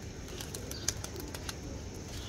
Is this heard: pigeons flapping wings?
yes